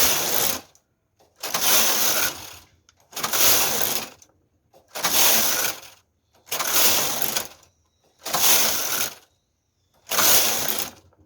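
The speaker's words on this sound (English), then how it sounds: "I'm going to continue knitting so that we can see how the effect is." A domestic knitting machine works a tuck stitch pattern from punch card 10, its carriage sweeping across the needle bed in seven loud, even passes of mechanical clatter and ratcheting, each separated by a brief silent pause.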